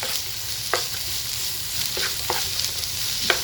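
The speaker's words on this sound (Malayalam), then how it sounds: "ഇനി നന്നായിട്ട് വഴറ്റി കൊടുക്കാം." Sliced onion for chicken thoran sautés in a pan, giving a constant hissing sizzle broken by a few sharp spatula scrapes and knocks, close and alone with no voices.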